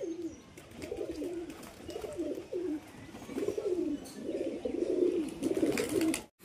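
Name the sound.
pigeons cooing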